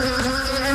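Honeybees from Imbabura beekeepers buzz in a steady, close, continuous drone with a bright, high whine, heard alone with no voices.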